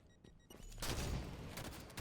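A quick burst of gunfire in Halo 5 hits a wall, a few clicks followed by a loud, dense volley that rings on to the end, with no voices.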